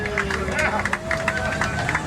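Tour passengers on a Boston duck boat clap in a quick, scattered burst as the wheels touch down on the Charles River, the applause blending with crowd chatter and a guide speaking over it.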